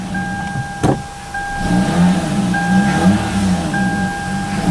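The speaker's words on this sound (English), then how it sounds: "It actually starts the car with no battery." A car with no battery, powered by a GBB 500A portable jump starter, cranks and its engine catches into a steady low idle, with a dashboard chime tone ringing on and off above it.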